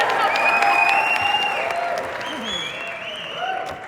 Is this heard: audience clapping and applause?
yes